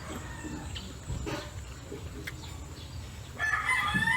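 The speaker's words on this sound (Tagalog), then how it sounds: "May lumiligid po sa akin mga ibon." A rooster crows and chickens cluck faintly in the background, with a louder call near the end, over a low outdoor hum.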